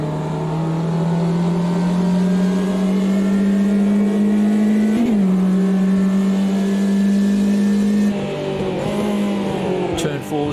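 Ginetta G40 race car engine in Gran Turismo 5 at Campo Grande, a steady loud drone holding one pitch through a corner, with a brief blip and a shift near the end as revs drop, while someone talks over it.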